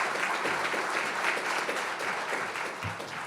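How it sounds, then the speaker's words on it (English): Audience applause for a panel at the close of a medical marijuana talk, a steady dense wash of many hands clapping at even loudness for the whole stretch, with no voices over it. "give these folks a nice round of applause"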